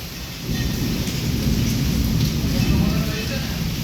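A thunderstorm in Wankaner brings nonstop heavy rain and wind as a loud, dense, steady roar, with deep thunder rumbling underneath throughout.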